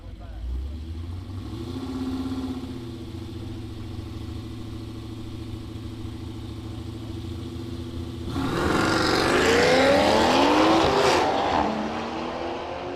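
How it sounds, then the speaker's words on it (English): Drag racing between a Chevy PPV and a white Toyota Supra: engines idle and build with rising harmonic drones, then a loud launch roars and sweeps upward in pitch as the cars accelerate away. "The PPV is going to watch the white Supra run away."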